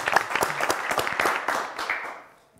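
A studio audience on a Turkish word quiz show claps in a brief burst of applause that fades out within a few seconds.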